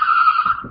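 A car skids under hard braking, giving a loud, sustained tire squeal that fades after about half a second as low road rumble takes over.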